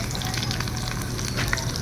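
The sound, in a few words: food frying in cooking oil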